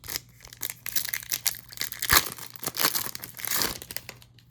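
A Topps Chrome Series 2 trading card pack wrapper being torn open by hand, close crinkling and ripping foil in irregular bursts with a sharp tear partway through, no voices.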